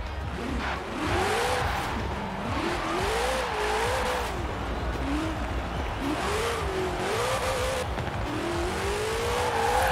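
A Shelby King Cobra in Forza Horizon 4 drives hard, its engine note rising and falling in repeated revving sweeps over a loud continuous roar, steady for the whole stretch with no voices.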